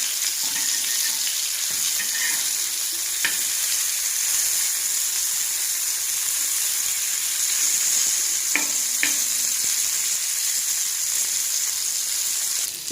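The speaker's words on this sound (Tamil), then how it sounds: "இப்போ மீன் வறுப்பட்டுச்சு" Fish fries in a pan over a low flame with a dense, even sizzle that holds steady throughout, broken by a few faint utensil taps.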